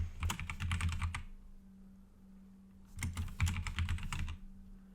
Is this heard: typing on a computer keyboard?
yes